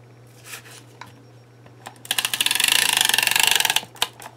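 Adhesive glue runner laying down a strip of glue dots on card, a fast, close rattling ratchet-like clicking burst of about two seconds following a few isolated clicks.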